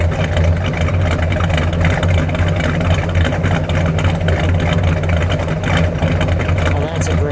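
A 1967 Plymouth Belvedere GTX with its original 440 engine and four-speed idles with a steady, deep, loud rumble close by, unbroken for the whole stretch.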